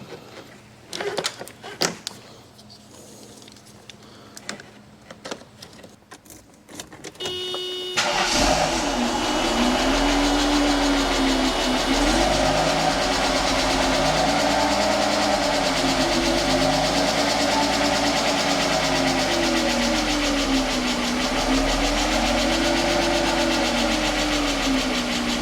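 After a few quiet clicks and rustles, a Mercedes AMG coupe left unused for years cranks and fires up, then settles into a loud, steady idle with a gently wavering rhythm, heard close with no talking.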